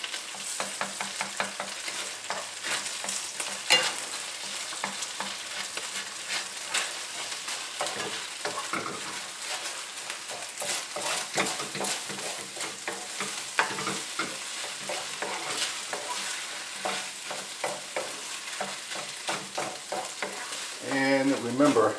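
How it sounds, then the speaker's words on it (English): Fried rice with egg and diced scallions cooking in a pan, a continuous close sizzle broken by frequent spatula scrapes and stirring clatter, with no talking. "we have a little well there in the middle of the fried rice because I want to add an egg"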